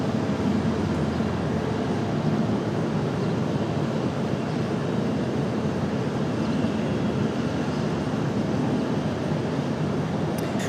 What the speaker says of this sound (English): Here is our beautiful A350 finally making an appearance.